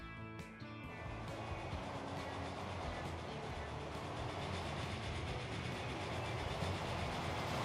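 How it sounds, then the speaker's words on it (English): A train running in the Transport Fever 2 video game rolls along in a steady, dense mechanical rumble with faint rail clatter, continuous and fairly loud throughout. "There's the second train."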